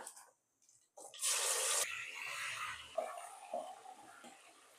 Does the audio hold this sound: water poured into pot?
yes